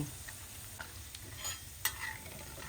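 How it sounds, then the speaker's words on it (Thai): Pork skin frying in very hot oil for cracklings, a faint, steady sizzle with scattered crackles and one sharper pop near the end. "พอน้ำมันร้อนจัดๆนะคะ ตัวหนังหมูเขาก็เริ่มแตกแล้วก็กรอบขึ้นเลย"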